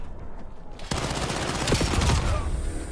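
Rapid bursts of gunfire from a video game, a sudden loud volley of overlapping shots that keeps going as a dense crackling barrage, no talking.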